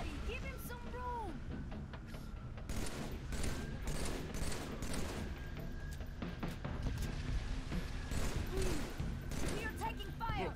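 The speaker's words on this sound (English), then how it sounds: "We are taking fire!" Sustained Halo 3 combat gunfire, with rapid bursts and volleys of shots running nearly throughout alongside explosions and mechanical game sounds, while a player talks over it.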